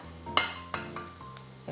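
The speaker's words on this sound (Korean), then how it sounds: "다진 마늘을 먼저 기름에 넣어주세요. 약간 튀기듯이" Minced garlic frying in oil in a home kitchen for a prawn and clam sauce: a soft steady sizzle broken by a few sharp clinks of a utensil against the pan, with no voices.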